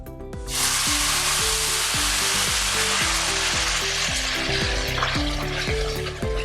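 Water poured into frying sooji halwa with sugar sets off a loud, steady sizzle, joined by repeated rhythmic scraping and stirring strokes in the pan throughout.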